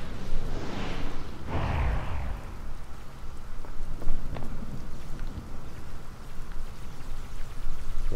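A lightning storm in Tears of the Kingdom: steady heavy rain hisses throughout, and a deep rolling thunderclap booms early on, followed by fainter rumbles under the constant downpour.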